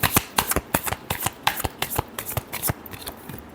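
Tarot cards being shuffled by hand, a quick run of crisp riffling snaps in an irregular rhythm, close and clear with no talking.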